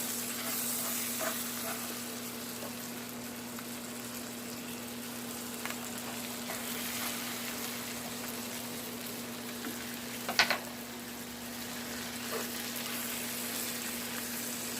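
Small lobster tails fry in a pan over medium heat, giving a continuous, even sizzle with a low steady hum beneath and one sharp clatter partway through.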